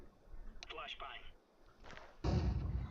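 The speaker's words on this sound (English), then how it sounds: "Flashbang." A flashbang grenade goes off in a tactical shooter video game, a loud, sudden broadband burst that starts late and sustains to the end, following earlier scattered game noises and talk.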